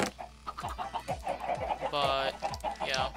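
Chickens in the video game Minecraft cluck in short repeated bursts, fairly close and clear, with a faint background hum.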